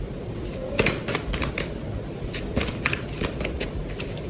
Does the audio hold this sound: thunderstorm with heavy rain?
no